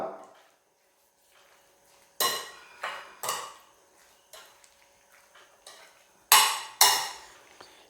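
Lemon pieces with salt being mixed in a bowl for curry naranga pickle, heard as a series of sharp spoon-against-bowl clinks and scrapes, close and fairly loud, in irregular bursts with quiet gaps between.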